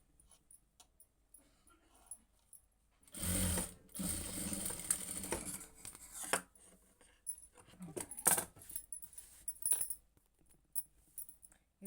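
A sewing machine stitches lining fabric in several bursts, a long steady run followed by shorter stop-start runs with quiet gaps and small handling clicks between them.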